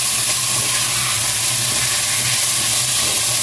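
Tomatoes hit a hot pan and sizzle steadily, a close, loud frying hiss that runs without a break and has no talk over it.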